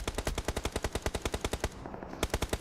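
Rapid automatic gunfire in PUBG Mobile, a fast, evenly spaced burst of sharp shots, briefly pausing, then resuming loud and close.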